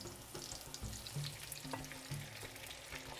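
Whipped egg mixture poured over basterma, an Arabic sausage, sizzles and fries steadily in a pan, a close continuous crackle with soft stirring scrapes throughout.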